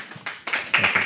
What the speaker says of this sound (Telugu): చప్పట్లు కొడుతూ దైవజనులు మనం ఆహ్వానిద్దామండి